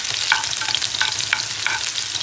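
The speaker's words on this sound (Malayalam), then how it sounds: "ഇതിനകത്തേക്ക് ചെറിയ ഉള്ളി നമ്മൾ സ്ലൈസായിട്ട് കട്ട് ചെയ്തത് ഇടാം" Sliced shallots fry in hot oil with fenugreek for a mango fish curry, a close, constant hiss and crackle punctuated by a few light stirring scrapes.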